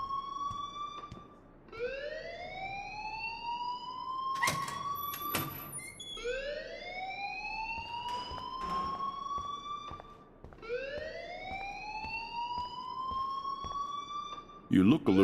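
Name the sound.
alarm ringing in video game Life Is Strange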